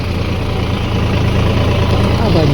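A tractor leaving a maize field on the way to be weighed gives off a loud, close, steady low engine rumble that fills the whole short stretch without a break.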